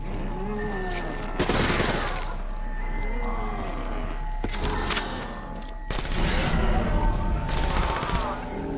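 Light machine gun fire in Call of Duty Black Ops III, sustained automatic bursts in several stretches, loud and close, with other game sounds mixed in.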